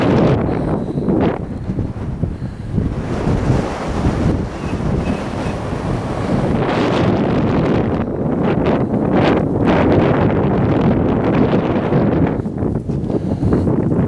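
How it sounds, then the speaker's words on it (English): Strong wind buffets the microphone on an exposed hilltop walk at Moel Y Parc, a continuous loud roar with gusty surges and no speech. "Very breezy."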